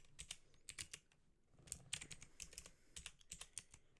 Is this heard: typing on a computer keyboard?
yes